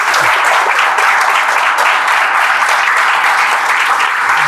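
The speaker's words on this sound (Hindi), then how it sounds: "ताली बजा दीजिए भाई।" A room full of people in a village gathering claps loudly and steadily for the village's first IIT graduate, dense applause holding at one level throughout with no speech over it.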